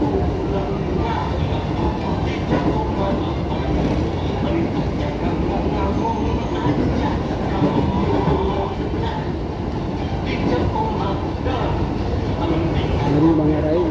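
A commuter train running on the line between Manggarai and Tanah Abang makes a steady, loud rumble with wheel and carriage noise all the way through, while voices and announcements carry on over it.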